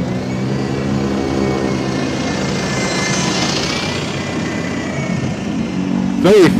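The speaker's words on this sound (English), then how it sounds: "Some very noisy motorbikes." Loud motorbikes roar past on a road, a continuous revving engine drone that swells and fades, with a sharp pass-by whine near the end. A voice talks over part of it.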